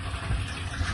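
Water pumped up by a submersible motor gushes and splashes steadily as it fills, a continuous rushing flow with low churning.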